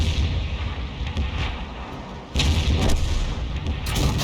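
A tank cannon fires in a tank video game, each shot a heavy, loud boom with a rumbling tail, the second blast landing midway through.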